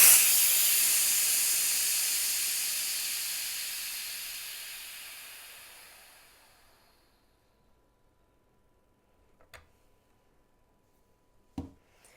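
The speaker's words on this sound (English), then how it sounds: "I'm gonna go ahead and turn it off, purge this, and you're gonna wanna do this around 5 times." CO2 purges from a homebrew keg in one long, loud hiss that steadily fades away over several seconds, followed by quiet and a couple of faint clicks.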